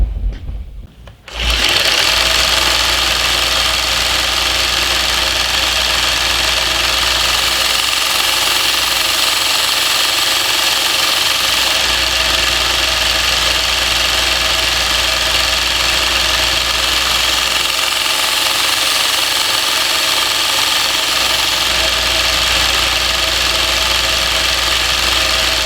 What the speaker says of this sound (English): to a 600 grit on our little 1x30, and everything is a cutting stroke